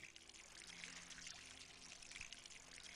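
Water trickles and pours steadily onto pumpkins in the farming video game Kynseed, a faint continuous splashing with small spatters throughout.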